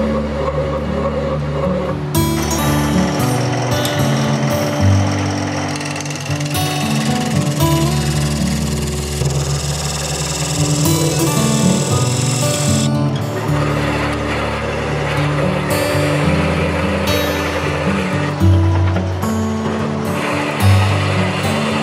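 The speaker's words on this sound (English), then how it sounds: "Gonna take a Forstner bit, hollow this out a bit, and then dig the rest out with a bowl gouge." A Forstner bit drills into a walnut workpiece to hollow out a square four-legged bowl, giving a steady, loud motor whir that changes pitch as the cut bites and eases.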